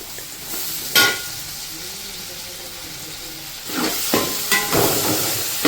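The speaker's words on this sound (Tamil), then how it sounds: "இப்போ வந்து நறுக்கி வச்சுருக்கிற ஒரு 3 பழம் தக்காளியை வந்துட்டு ஆட் பண்ணிக்கிறோம்" Steady sizzling and hissing of chopped tomatoes sautéing in a hot pan for fish curry, with a few louder bursts and stirring scrapes near the end.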